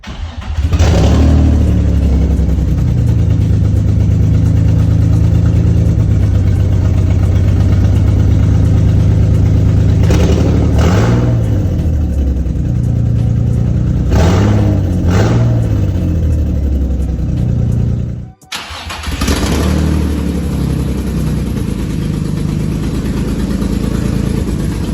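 Drift car being started for the first time after a clutch with a welded disc was fitted and the oil drained, the engine turning over and catching, then revving hard in repeated bursts over a rough idle, loud and close, briefly cutting out near the end before running again.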